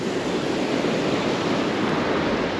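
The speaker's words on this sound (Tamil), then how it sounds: "வேஸ்ட்டாக தாங்க போகுது தண்ணி பாருங்கள்." River water rushes over the Velliyur check dam on the Kosasthalai river at Thamaraipakkam, a dense, steady roar of flowing water heard close and continuous without pause.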